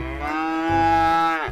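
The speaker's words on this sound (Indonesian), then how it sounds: "ada anak sapi Australia teman-teman" A young Australian calf gives one long, loud, close moo that holds a steady droning tone for about a second and a half, alone with no talk.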